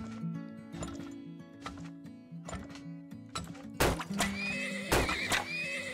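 Horses neighing repeatedly in the Turmoil oil-drilling game, with several loud whinnies over a busy layer of clip-clop hoofbeats and game effects, swelling strongest toward the end.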